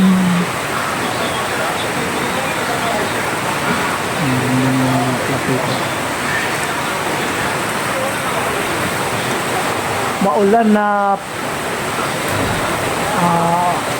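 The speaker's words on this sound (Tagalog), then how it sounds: "Grabing ulan dito eh. Ang lakas-lakas ng ulan." Heavy rain pours in a loud, steady roar across the whole stretch, while occasional voices speak briefly beneath the downpour.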